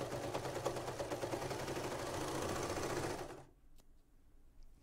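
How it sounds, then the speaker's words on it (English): A sewing machine stitching a seam on a faux fur blouse, a fast steady mechanical whirring chatter held close and even for about three seconds, then stopping into quiet room noise. "If you guys want me to do a seam on the sewing machine"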